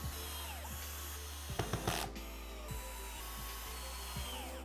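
A power drill bores 2.5 mm pilot holes, then drives self-tapping screws to fix a mounting bracket for a Blum AVENTOS HK top lift fitting, in several short whirring bursts with pauses between them, close and fairly quiet.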